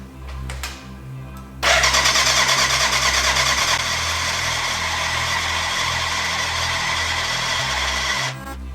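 A BMW K100 motorcycle on a cafe racer build with a leaking injector cranks with a rhythmic starter whir, then fires into a loud, busy engine run that holds for several seconds before cutting back to a chugging idle.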